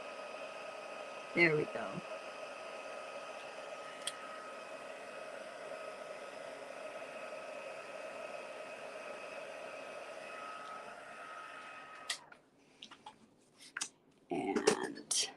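A heat tool hums steadily while heat-setting a 3x3 mini card. It blows as a soft, continuous hiss for about ten seconds and then cuts off, with brief quiet talk at the start and end.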